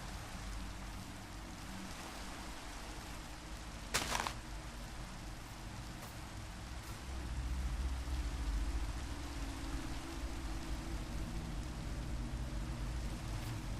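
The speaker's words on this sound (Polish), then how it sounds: "jest to modyfikacja poświęcona właśnie głównie deszczowi, deszczowej pogodzie." Steady rain from a video game weather mod hisses continuously, evenly and fairly softly, with a brief sharp click partway through and a low rumble swelling in the later part.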